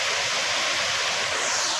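Gundichaghagi waterfall in Keonjhar, Odisha pours with a dense, constant roar that fills the whole short stretch, loud and unbroken with no voices.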